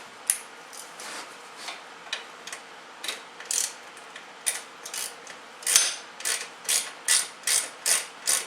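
A socket wrench ratchets a bolt on a Suzuki VanVan motorcycle rack, a close run of crisp clicking strokes that quickens into an even, steady rhythm toward the end.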